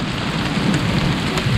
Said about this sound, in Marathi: पाऊस खरंच आला आहे आणि पावसामुळे थांबलो आहे थोडंसं.